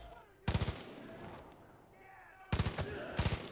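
Mounted machine gun firing in Far Cry 5, two short rapid bursts of loud close automatic fire separated by a quieter stretch of ambient game sound, with faint chatter in the background.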